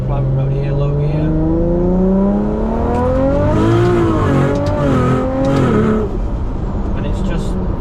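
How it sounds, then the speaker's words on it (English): A Nissan R34 GTR with a ZF 8-speed transmission accelerates, its engine note rising and dipping through quick gear changes under loud talk in the cabin. "Just click, click, click, seamless. Just straight up your gears as fast as you sort of want it to go."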